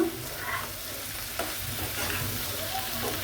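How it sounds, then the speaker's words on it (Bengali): Potato, onion and tomato fry together in a pan, with a close, continuous sizzle and hiss and soft scraping from stirring throughout. "আলুটাও ভেজে নেব পেঁয়াজের সাথে আমি টমাটোটাও সুন্দর করে ভেজে নেব"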